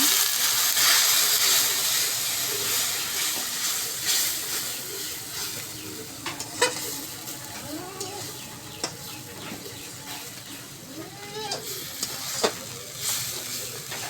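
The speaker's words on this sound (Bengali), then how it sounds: "কষে নেওয়ার জন্য সামান্য পানি দিয়ে আবার তিল আলু মশলার সাথে কষে নেওয়া হচ্ছে" Sesame, potato and spices being sautéed with a splash of water in a village Bengali kitchen, giving a steady hiss and sizzle with occasional scraping stirs and faint background voices.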